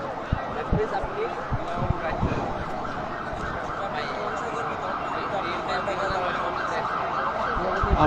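A police vehicle passing along a city street near Paltan, its siren wail running under continuous street noise and the hum of passing traffic, with a few sharp knocks, heard from a moderate distance.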